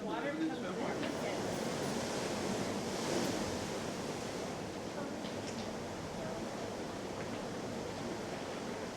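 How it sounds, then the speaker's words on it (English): Sea water surges into a rock pool at the Animal Flower Cave in Barbados, a continuous loud wash and roar of surf filling the whole stretch, with a voice briefly heard in the background. "It looks like the water comes in."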